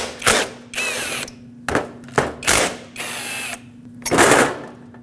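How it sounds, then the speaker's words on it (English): A ratchet with a 14mm socket backs out the two caliper bolts on a 2005-2021 Nissan Frontier front brake caliper at a workbench: close, loud bursts of rapid clicking separated by short pauses, with no talk. "Use a 14mm socket and take these 2 bolts off."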